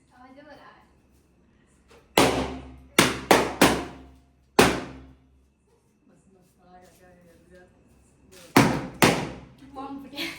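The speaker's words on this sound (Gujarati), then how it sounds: "બોમ્બ ફૂટ્યા." Firecracker bombs bursting at a small home celebration: sharp loud bangs, a quick cluster of four then a single blast and a later pair, with quiet gaps and faint talk between.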